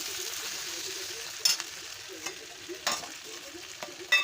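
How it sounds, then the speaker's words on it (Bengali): Potatoes, ginger, cumin, onion and tomato sautéing in a pan for a fish curry, giving a soft steady sizzle with a few sharp stirring scrapes and clinks of a utensil scattered throughout. "এখন মাছের ঝুলের জন্য আলু আর কিছু কাঠি আদা জিরে পেঁয়াজ টমেটো সব দিয়ে কষাচ্ছি এখানে"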